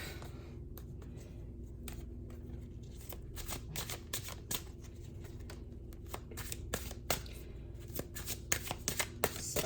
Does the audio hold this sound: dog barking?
no